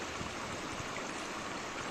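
Water splashing and rushing in a stream on a foggy, freezing December day, a steady broadband wash with no distinct events, fairly close and continuous, no voices.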